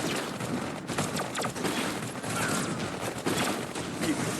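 Iron Marines Invasion battle: continuous, dense rattling gunfire and small shots fill the whole stretch at steady loudness, with a voice faintly under the shooting.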